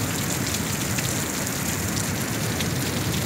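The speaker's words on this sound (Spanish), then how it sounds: "cae una gran tormenta en la ciudad, no cesa de llover" Heavy rain pouring steadily during a city thunderstorm, a dense, loud hiss of water with no pauses.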